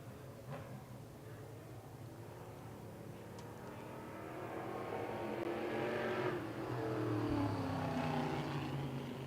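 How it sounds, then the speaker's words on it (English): A race car laps the Orange County Fair Speedway short track during a Short Track Super Series event, its engine roaring and building as it passes, loud and fairly close, with no talk. "Now Chris Weslowski, the green collar, roofing and siding number 51 car on the Speedway right now"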